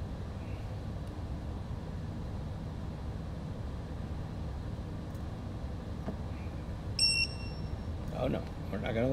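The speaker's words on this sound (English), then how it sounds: "Gonna listen to this stupid beeper again." A drone's electronics beeper on a Flywoo Explorer under repair gives a brief burst of high electronic beeps near the end, over a steady low background rumble.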